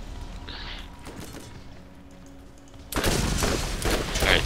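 Rapid bursts of gunfire from the Borderlands shooter game erupt loud and dense in the second half, with quieter game ambience and clatter before, shots aimed at a rat enemy.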